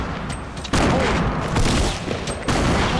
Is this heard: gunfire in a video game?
yes